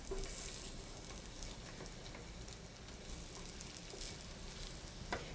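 Food fries in a heated pan over lowered heat, a faint, even crackling sizzle with soft pops and stirring sounds, no one speaking.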